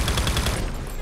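Dual Makarov pistols fired akimbo in Call of Duty Mobile: a rapid, even string of loud close shots, about ten per second, that stops abruptly after roughly half a second, leaving a short ringing tail.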